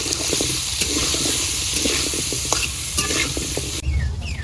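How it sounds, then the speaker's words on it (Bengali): Small new potatoes fry in a wok with turmeric and salt, a steady loud sizzle broken by scraping stirs and clinks, alone without talk. "এই কড়াইটায় আলু ভাজা শুরু করে দিই।"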